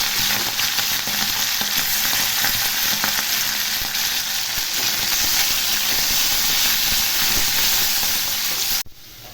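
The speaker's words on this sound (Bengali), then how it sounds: "এবার আমি চিংড়ি মাছটাকে ভেজে নেব। চিংড়ি মাছ দিয়ে দিলাম।" Shrimp frying in hot oil gives a loud, dense, steady sizzle with no pauses, cutting off abruptly just before the end.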